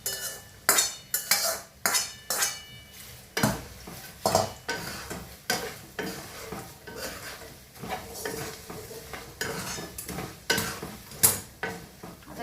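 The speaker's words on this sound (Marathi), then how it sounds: "जे काय आता आपण भाजलं होतं ना सगळं साहित्य, ते पण मी आता ह्याच्यातच मिक्स करून घेणार आहे" A metal spatula scrapes and clatters against a hot wok as roasted chivda ingredients are tossed and mixed, repeated close, loud strokes in an irregular rhythm with a faint sizzle underneath.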